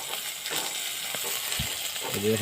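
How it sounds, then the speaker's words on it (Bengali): A crab fries in a pan with a low, continuous sizzle and faint crackles, ending with a brief stir or scrape and a little background noise. "काकड़ा भजा"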